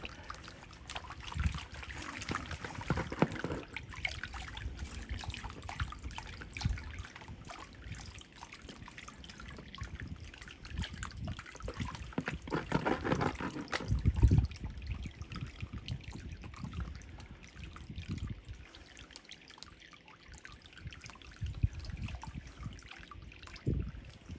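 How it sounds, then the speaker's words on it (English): Water trickling and sloshing steadily while gold is panned by hand at a digging site with a trommel, a continuous close splashing with brief louder surges. "I need to get in here to get some water. Maybe I can pan right here in this."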